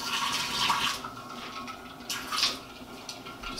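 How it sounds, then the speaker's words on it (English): Coffee is poured from a container into a kitchen sink, a steady splashing stream of liquid that swells in two bursts and then eases off, close by with no talking. "So what I'm going to do is I'm going to pour out some of this into the sink"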